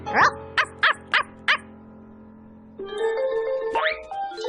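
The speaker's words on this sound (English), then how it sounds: "Lucky for Clifford that he has such a big bark for a little tiny puppy." In a cartoon, a tiny puppy gives a quick run of five sharp barks that sound oversized for its size. A brief quiet follows, and then music and effects play.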